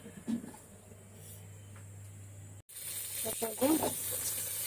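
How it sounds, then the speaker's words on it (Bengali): Koi fish (climbing perch) frying in hot oil gives a steady, quiet sizzle and hiss. The sizzle turns brighter and louder partway through, with faint kitchen clatter and a low hum beneath. "কই মাছ ভাজতেছি"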